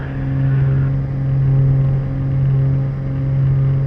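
Twin engines of a Beechcraft G58 Baron powering up for takeoff, a loud steady droning hum close by that swells and dips slightly in a slow rhythm, with no voices.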